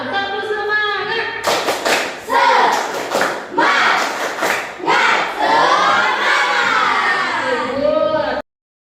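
Indonesian schoolchildren perform the Tepuk semangat clapping chant in a classroom, loud rhythmic claps and thumps mixed with shouted chanting voices, then an abrupt stop.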